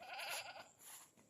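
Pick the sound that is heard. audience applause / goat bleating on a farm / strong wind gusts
goat bleating on a farm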